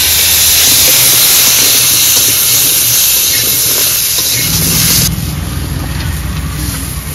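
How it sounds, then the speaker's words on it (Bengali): Potatoes sizzling in hot oil already used for frying maya fish, a loud continuous crackling hiss up close that eases slightly partway through. "মাছ ভাজা তেলের মধ্যেই আলু ভেজে নেব"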